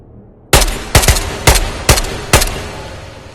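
Five sharp AK rifle gunshots in the VR shooter Ghosts of Tabor, fired one at a time at a steady pace of roughly half a second apart, loud and close, with reverberant tails between shots.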